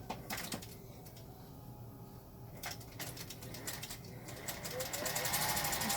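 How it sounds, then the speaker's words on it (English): A sewing machine stitches elastic onto a two-ply silk face mask at a quarter-inch seam, running in short bursts with pauses between them, fairly quiet and close, with faint background noise. "I'm sewing them at 1/4 inch."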